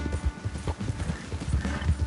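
Horse hooves clip-clop at a steady trotting rhythm in Red Dead Redemption 2, close and fairly loud, the beats repeating evenly across the stretch.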